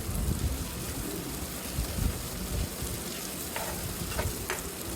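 Mango ginger pickle being stirred with salt in hot oil: a continuous close sizzle and fry with soft scraping stirs throughout, loud and alone.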